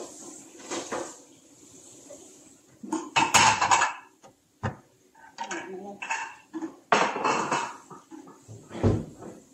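Plates and dishes clatter in a home kitchen in repeated bursts of clinking and knocking, some sharp and close, with a few quieter scrapes between and no clear talk.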